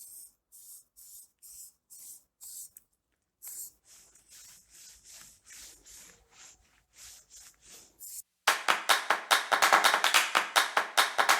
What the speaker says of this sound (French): Et pour finir, un petit coup de spray.